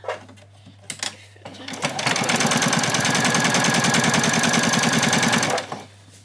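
A sewing machine stitches an apron hem in one steady, rapid run of needle clatter lasting a few seconds, preceded by small handling knocks and ending abruptly, with a low hum underneath.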